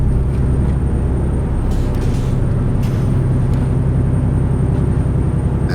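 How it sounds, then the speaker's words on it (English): A 450-horsepower truck engine in American Truck Simulator pulls a light load uphill on California's Highway 1, a loud, steady low droning rumble that holds throughout with no break. "And this truck really pulls up these hills."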